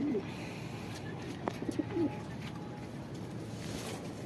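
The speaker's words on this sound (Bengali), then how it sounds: "আমি কবুতরটা এখন আপনাদের সামনে একদম অল্প হাতে ধরবো" Pigeon held gently in a hand indoors, a faint soft coo and a few quiet bird calls over low background hum, with brief rustles.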